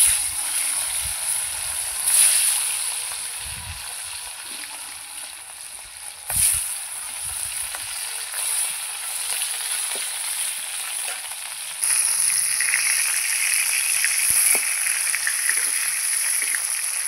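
Pieces of katla fish frying in hot oil give a steady, close hiss of sizzling that swells in short bursts and grows louder and brighter toward the end, with no voices.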